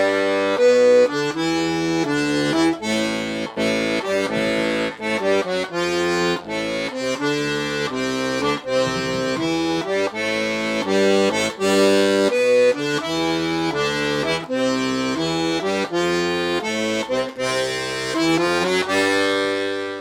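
A piano accordion plays a rock-and-roll zydeco left-hand bass pattern, steady bass notes and chords spelling out the changes in a continuous bouncing rhythm, close and clear with no talking.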